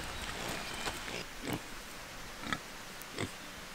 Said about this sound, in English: Do you see that pig?